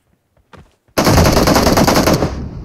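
Loud automatic gunfire from the mobile battle royale game BGMI (PUBG Mobile) bursts in after a brief quiet moment with faint sounds and sustains as a rapid continuous volley that eases off slightly at the end.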